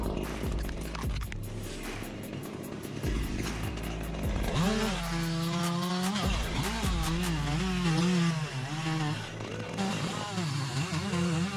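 A chainsaw revs and whines at shifting pitch, bogging and rising as it cuts branches of an old tree from above, with loud engine drone throughout.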